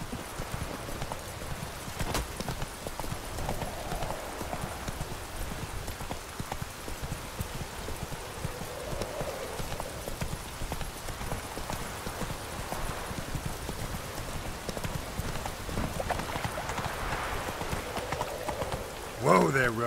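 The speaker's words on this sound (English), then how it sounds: "Whoa there, Roach" Horse hooves clip-clop steadily at a walking pace in the video game The Witcher 3: Wild Hunt, a continuous rhythmic patter beneath ongoing dialogue.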